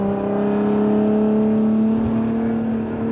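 A Lotus Emira's engine drones steadily as the car accelerates on a track, a loud continuous tone with a slowly rising pitch and no pauses.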